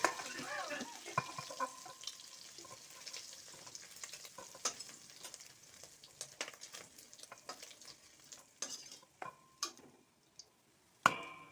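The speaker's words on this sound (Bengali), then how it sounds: "আমার চিংড়ি মাছ কিন্তু একদম ভাজা হয়ে গেছে" Prawns frying in a pan for a bottle gourd and prawn dish, with a steady soft sizzle broken by frequent sharp clicks and scrapes of stirring, moderately close and fairly quiet.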